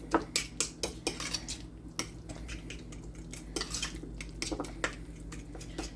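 A utensil clinks and scrapes around a bowl while breakfast quesadilla ingredients with garlic powder are mixed, quick rhythmic taps early on settling into softer irregular stirring, close and quiet.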